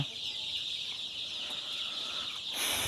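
Chickens cluck and chatter together in a steady, busy flock noise, a sharper cry rising near the end, no talking.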